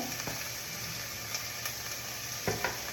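Onions with yellow and green capsicum fry in a pan for paneer momo filling, giving a steady close sizzle with a few soft stirring scrapes, no voices.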